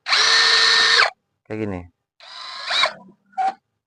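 A compact KEELAT KCD 007 brushless cordless drill, able to bore concrete, whirring in short bursts: a one-second high whine, then brief spin-ups and stops, with someone speaking between the bursts.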